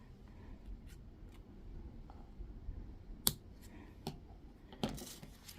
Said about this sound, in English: But I'm going to cut it off.